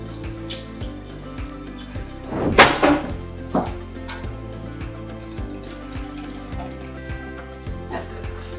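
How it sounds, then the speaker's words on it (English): Liquid from canned yams is poured off as a short splashing, gurgling pour for a couple of seconds, close by, with music playing steadily underneath and a brief voice. "So we're going to drain it out."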